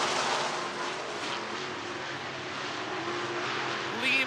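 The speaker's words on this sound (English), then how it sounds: "Mills and Gustin going to barrel down underneath the 4 of Bass as they race off of turn number 4 and down the front" Dirt track race cars roar down the front straightaway at Boone Speedway in Iowa, a steady, fairly distant engine drone with a slight swell at the end.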